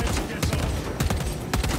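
Warhammer 40k Space Marine 2 combat with rapid bursts of gunfire, sharp repeated cracks coming in quick irregular bursts, loud and close, with a voice partly under the shooting.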